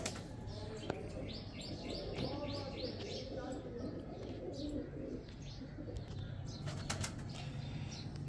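A pigeon's wings flap as it is released by hand, with soft coos and chirps from other pigeons, all faint against a steady background murmur.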